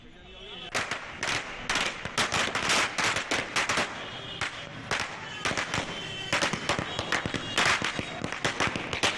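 Firecrackers burst in rapid irregular volleys at a street celebration by Congress party workers, sharp loud cracks in dense clusters across the whole stretch, close by, with voices faintly underneath.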